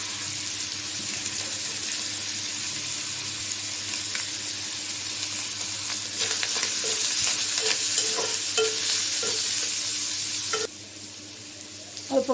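Chopped onion and green chili frying and being stirred in a pan for a home-cooked Bengali dish with small shrimp and greens, a steady hiss under clinks of the stirring spoon, with a brief pause near the end.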